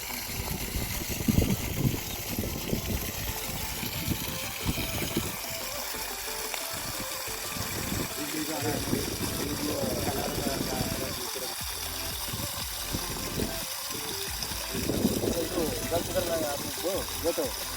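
A 3 hp solar water pump with a 120 m head runs steadily on a farm, water gushing and splashing continuously from the outlet, loud and close, with people talking over it.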